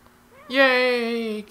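A cat in the video game Fragile Dreams lets out a single drawn-out, tonal meow that swells in and holds steady for about a second before cutting off, heard close and clear with no talking.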